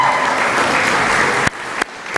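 Warm applause from wedding guests for the wedding party, a dense sustained clapping that cuts off abruptly near the end with a couple of stray claps.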